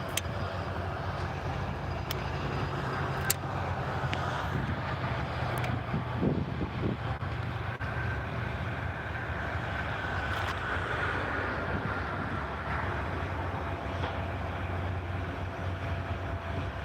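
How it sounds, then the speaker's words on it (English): Steady wind gusting across an open outdoor site by a large Tesla factory in Austin, Texas, a continuous broadband rush with no voices, occasional faint clicks on top. "Oh, it's windy today"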